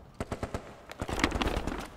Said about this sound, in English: We gotta take out that machine gun then.